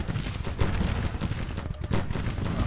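Massed cannon fire in the Civil War strategy game Grand Tactician, with loud, overlapping booms and crackling volleys rolling on steadily and briefly dipping before surging again.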